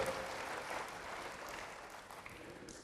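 A congregation claps for God during a church service, a faint, steady patter of applause that carries on without a break.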